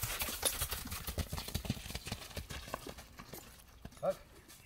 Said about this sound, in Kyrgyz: Ат үчтөп берейин кичине?